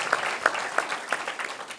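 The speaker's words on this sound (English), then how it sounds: "let's give him a round of applause and thank him for being here" A room of attendees applauds at the Smart Schools Commission final report event with Governor Cuomo, several sharp individual claps standing out over a steady bed of clapping that carries on evenly.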